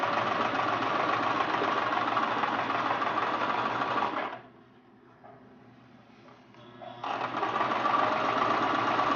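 Sewing machine running a narrow zigzag stitch along monk's cloth, a steady close whirring hum that stops for about three seconds midway, then resumes at full level until the end.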